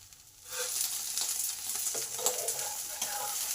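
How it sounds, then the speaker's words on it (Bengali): Brinjal pieces frying in hot oil in a pan, a continuous bright sizzle rising after a quiet start, with occasional stirring clatter and no voices. "বেগুনগুলো দুদিকই লাল লাল করে ভাজা হয়ে গেছে"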